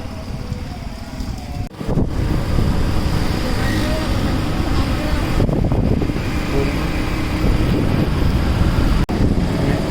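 Wind blowing outdoors on a sunny day as a bike is wheeled out, a steady broadband rush that holds for nearly the whole stretch, with two brief dips.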